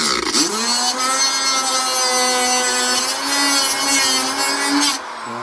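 A Dremel rotary tool grinds on a barn-find Yamaha Virago motorcycle gas tank, giving a steady, close, high-pitched whine with bright overtones that holds for about five seconds before cutting off, with no talking.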